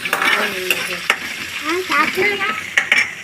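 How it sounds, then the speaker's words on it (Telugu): Chopped onion stirred into frying potatoes in a pan sizzles loudly and close by, broken by repeated scraping strokes and knocks of the spoon. "ఒక ఉల్లిపాయ వేసుకుని ఉల్లిపాయ మొత్తం వేసుకోవాలి. బాగా తిప్పాలి. వాటిని మిక్స్ చేయాలి."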